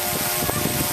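A quadcopter drone lifts off outdoors, its propellers making a loud, steady buzzing whir close by that fills the brief moment without a break.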